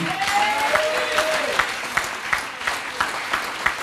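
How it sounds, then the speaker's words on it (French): Congregation applauding during a Sunday church service in Yamoussoukro: a crowd breaks into steady clapping that thickens into a regular rhythmic beat of hand claps, while a sustained tone sounds briefly at the start. "C'est à acclamer fortement."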